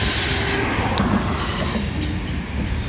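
CSX 1850, an L&N heritage locomotive, easing slowly into the rail yard at Cumberland, Maryland: a steady, fairly close rumble with faint wheel squeal and rattling, no voices.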